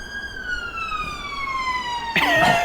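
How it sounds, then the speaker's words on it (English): An ambulance siren passing outside sounds as a steady, fairly loud wail whose pitch slowly glides downward as it moves by, ending with a burst of louder noise and another tone at the close. "Hold on, wait for this to pass. Sorry, Jimmy. Do you want the ambulance?"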